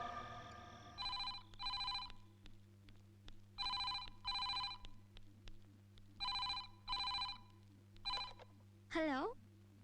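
A telephone rings in a domestic scene, six loud double-burst rings in a steady rhythm, followed by a rising warbling tone, with a low hum beneath and faint speech.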